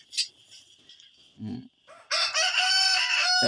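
A rooster crows loudly and close by, a long strained call filling the second half after a few softer clucks and rustles.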